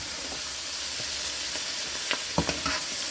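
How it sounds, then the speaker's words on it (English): Chopped onions sauté in a pan for shredded chicken fried rice, a steady close sizzle with a few sharper scraping taps of a utensil stirring near the end. "So as you can see, the onions are pretty much sauteed."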